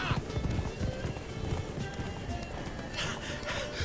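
Roach the horse gallops in The Witcher 3, hooves clip-clopping in a quick steady rhythm under game music and ambience.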